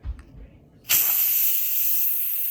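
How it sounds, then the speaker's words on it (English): A pressure cooker valve set to venting suddenly releases a loud, steady hiss of steam that continues unbroken after a few soft handling knocks. "now we're going to put it on venting position"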